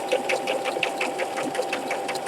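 A sewing machine runs steadily, stitching fabric for a small ChapStick holder, its needle giving a fast, even rattle up close with no talking.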